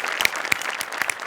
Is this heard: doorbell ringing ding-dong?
no